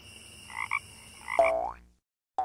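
A few frog croaks, short twangy calls close by, then a brief silence before another croak starts at the end.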